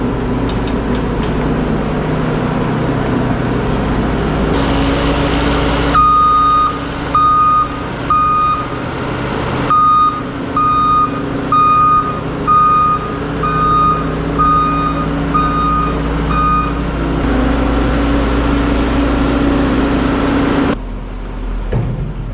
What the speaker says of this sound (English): So I've now got the skid steer pulled in here